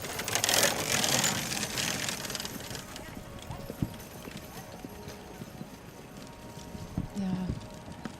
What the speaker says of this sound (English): you want to see rhythm, the quality of the canter with an uphill tendency